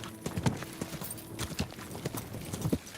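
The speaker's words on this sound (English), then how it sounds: "Your horse nearly trampled me." Horse hooves clip-clop steadily along a road in Kingdom Come: Deliverance II, the medieval game, with a moderately loud, uneven trotting rhythm of about a dozen strikes and no speech.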